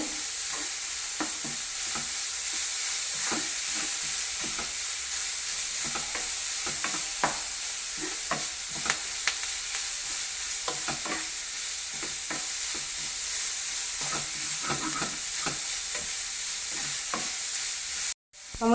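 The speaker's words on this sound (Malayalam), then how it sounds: "ഇതിൻ്റെ പച്ചമുളക് ഒന്ന് പോകാനായിട്ട് ഇളക്കണേ" Green chillies fry and sizzle steadily in a pan while being stirred for a mulberry leaf thoran, with frequent scraping clicks of the spoon over a constant sizzle throughout.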